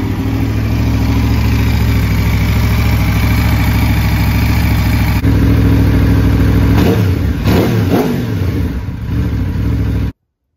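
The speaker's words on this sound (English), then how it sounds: "So now that we have the bike running" Aprilia RSV4 motorcycle engine idling after an oil change, a loud steady rumbling drone with a brief blip of revs near the end before it cuts off abruptly.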